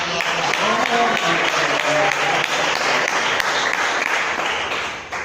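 Dense audience applause at a sermon, steady clapping throughout with voices calling out over it, tapering slightly at the end.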